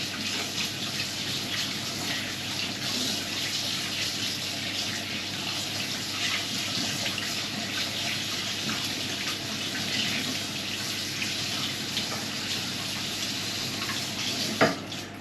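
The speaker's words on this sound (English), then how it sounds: "wash the hands." A kitchen tap runs steadily while sticky hands are washed at the sink, a continuous close hiss of flowing water lasting about fifteen seconds with no talking, ending with a small knock.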